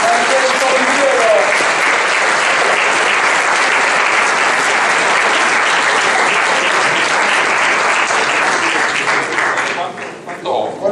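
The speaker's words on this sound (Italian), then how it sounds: "Un caloroso applauso per il dottor Francesco Piviero." Warm applause from a seated audience at an Italian talk, dense and sustained clapping filling the room at steady loudness for about ten seconds before thinning out at the end.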